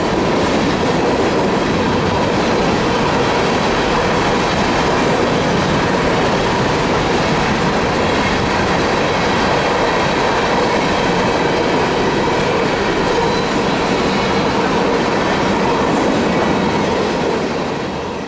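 A freight train with black tank cars rolls past at sundown, a loud, steady rumble with continuous clickety-clack of wheels on rail throughout, no voices.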